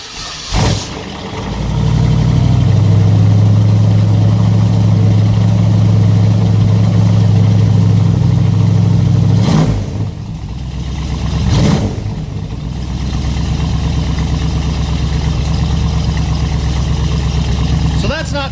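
A Chevy C10 V8 with Gibson rectangle-tip mufflers cold-starts after sitting a while, then settles into a loud, close idle with a couple of brief revs; someone talks over it.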